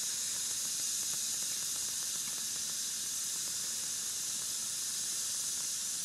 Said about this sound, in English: It's really boiling now.